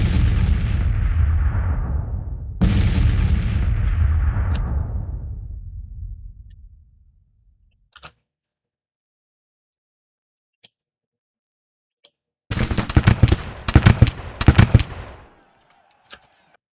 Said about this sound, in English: Think I'll keep my boys laying down for now, so the artillery can fire over their heads